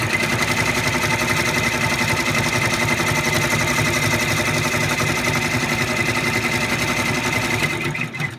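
A sewing machine runs a quick tack stitch down fabric, a fast, continuous, even mechanical whir and rattle, close and steady for several seconds before stopping.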